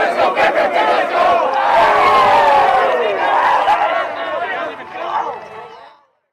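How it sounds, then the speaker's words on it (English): A high school varsity football team from Fairfield Prep shouts and cheers together after a victory over Hamden High, a loud, sustained group roar of many voices close by that fades out toward the end. "the cheer by the football team after the victory today"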